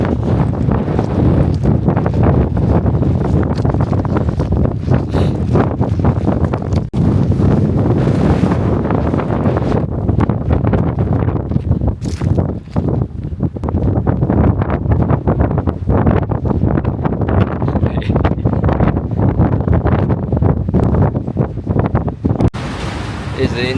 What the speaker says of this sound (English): But it's super duper windy.